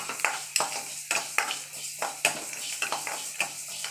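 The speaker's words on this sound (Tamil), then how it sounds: "அடுப்பை கொஞ்சம் சிம்மில் வச்சு வறுத்துக்குவோம்." Asafoetida lumps fry in a pan of oil over low heat while a spoon stirs and scrapes, giving a soft sizzle broken by repeated sharp metallic scrapes in an uneven rhythm, close and fairly quiet.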